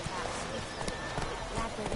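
Roach, a horse in the video game The Witcher III, gallops with a steady clip-clop of hooves under continuous game ambience, while a voice talks over it.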